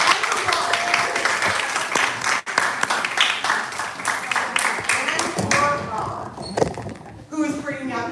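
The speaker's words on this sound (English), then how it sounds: "Another clap for Ron." A small group claps for Ron at a church health gathering, a scattered burst of hand claps mixed with room chatter and voices, with talk and shuffling noise taking over near the end.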